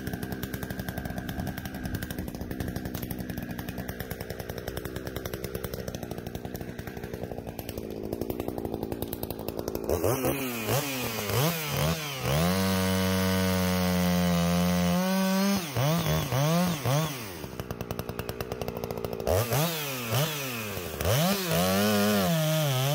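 Stihl MS400 or Husqvarna 562XP chainsaw cutting a tree stump in the woods, opening with a revving idle, then bogging down into a loud, close, sustained cut with repeated rises and falls in engine pitch; no talking.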